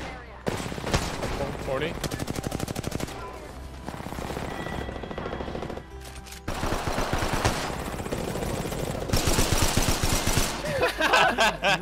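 Rapid bursts of automatic gunfire and single shots in the battle royale game Apex Legends, loud and dense throughout, with players talking over the action.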